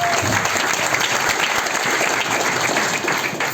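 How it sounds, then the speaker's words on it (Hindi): A seminar audience at a business leaders' event bursts into loud, sustained applause, dense many-handed clapping that stays strong and steady throughout, with no voice over it. "एक बार उनके लिए एक बार जोरदार ताली बजा देना"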